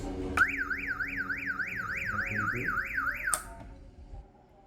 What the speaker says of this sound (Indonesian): toa berfungsi, maka menjadi alarm listrik saja